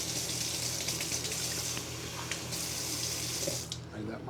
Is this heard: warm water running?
yes